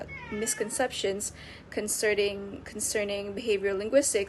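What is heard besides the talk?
cat meowing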